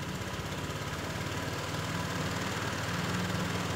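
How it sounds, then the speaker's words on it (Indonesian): A motorcycle engine idles steadily and close by while petrol is sprayed onto its intake manifold to check for an air leak. The low, even putter runs without a break and no one speaks. "ketika di intake manifoldnya ini disiram bensin, suara motor menurun, berarti di sini ada kebocoran udara."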